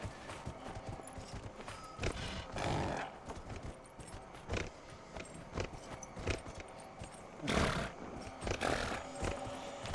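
Horse hooves clip-clop amid busy game noise in Dragon Age: Inquisition, with a horse neighing loudly a couple of times.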